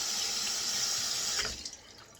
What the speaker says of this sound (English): Rinse it under cold water.